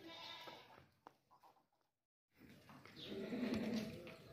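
A large dairy goat, a crossbred milking doe, bleats loudly at close range, with a couple of brief calls at the start, then a pause, then a longer, louder bleat.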